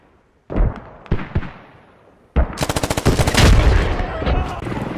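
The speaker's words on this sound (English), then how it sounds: "I think I hear mortar rounds coming from the southwest." Gunfire and explosive impacts in the tactical shooter game Squad: a few scattered sharp blasts, then a dense burst of rapid automatic fire with heavy booms, loud and close, no talk.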